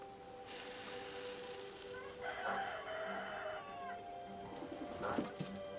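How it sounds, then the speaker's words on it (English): Chickens cluck and a rooster crows in the distance in an orchard, with other birds chirping over a steady outdoor background. "Chickens roam the whole orchard"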